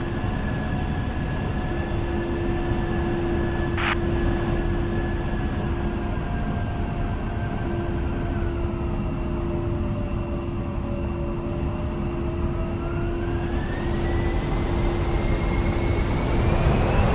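An A-10C jet in a flight simulator game during its takeoff roll, a loud steady engine roar with sustained whining tones that slowly shift in pitch as the aircraft gathers speed, with no voices.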